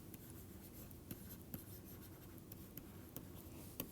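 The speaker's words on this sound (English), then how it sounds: "So, let me write the title." Writing a title on a lecture board for a mathematics lesson on rings and modules of fractions: a steady, soft scratching stroke punctuated by several sharp taps as the writing tool strikes the surface, close and alone without talk.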